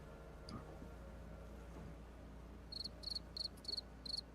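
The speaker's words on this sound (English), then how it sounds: "Okay, now we need the crickets." A looped crickets-chirping sound effect plays during a Dungeons & Dragons Icewind Dale: Rime of the Frostmaiden tabletop session, with about five short, evenly spaced trilling bursts coming in after a quiet stretch.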